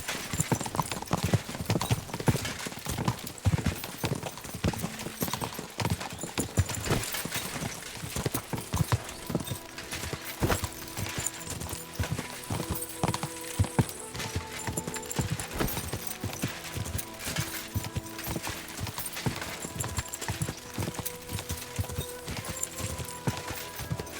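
Horses gallop in a riding race in the video game Kingdom Come Deliverance 2, with dense, continuous hoofbeats drumming throughout and an occasional faint whinny.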